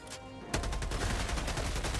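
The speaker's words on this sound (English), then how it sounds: "Oh, I'll go back to the machine gun." Machine gun in a video game opening up after a brief quiet start, a steady rapid burst of shots that holds to the end, fairly close and clear.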